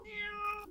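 A short, close cat meow is heard alone, cut off abruptly at the end.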